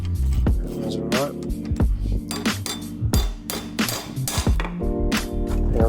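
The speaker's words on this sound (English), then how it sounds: "I'm just gonna try and chisel it around" Metal chisel being struck against a stuck part while stripping down a 1991 Yamaha Banshee, a series of loud, close, irregular clanking hammer blows with ringing metallic hits.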